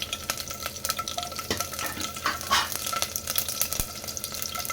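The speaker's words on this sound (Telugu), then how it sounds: "టూ స్పూన్ ఆయిల్ వేసుకోవాలి వెల్లుల్లిపాయలు వేసుకుని" Garlic cloves frying in oil in a pan, a continuous crackling sizzle with scattered pops and the occasional clink of a stirring spoon, close and steady throughout, with no one speaking.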